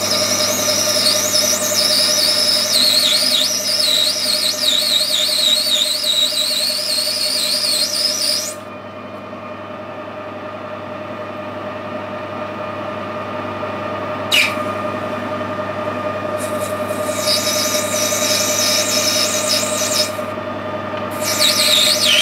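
A lathe turns down a metal part, about 12 mm to come off, giving a steady mechanical hum under intermittent high-pitched cutting squeals that stop midway and return in short bursts.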